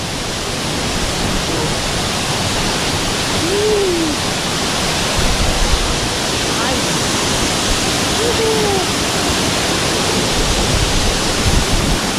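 Payaran Falls in Montalban, Rizal, running high and strong after rain, with brownish water. A loud, steady roar of rushing water fills the whole clip, with a few brief voices faintly over it.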